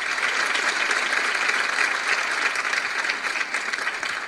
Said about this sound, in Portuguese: Receba os aplausos e carinho dos participantes